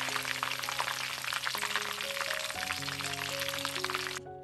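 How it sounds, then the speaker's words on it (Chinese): Eggplant strips deep-fry in oil heated to about 210 °C, a steady, loud crackling sizzle with dense bubbling throughout that ends abruptly near the close. "把油锅加热到210摄氏度左右，把炸好的茄条放入复炸"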